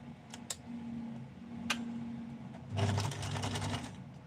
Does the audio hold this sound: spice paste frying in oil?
no